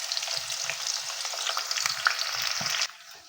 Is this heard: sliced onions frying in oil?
yes